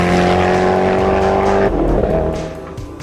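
A Koenigsegg Agera R supercar drives hard down a straight, its loud engine holding a steady, strained tone before a sudden shift in pitch partway through, then easing slightly near the end, with no talking.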